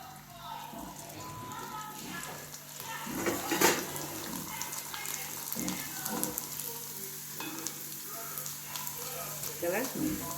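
Onion vadagam frying in hot oil for a traditional Tamil recipe, a moderate sizzle and bubbling with a few louder crackling bursts and faint kitchen clatter, heard fairly close.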